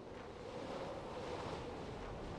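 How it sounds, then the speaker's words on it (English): A storm rages in the video game Near Death, with steady roaring wind and crashing waves forming a dense, continuous wash of noise with no voices. "Storm is making moving in a certain direction difficult."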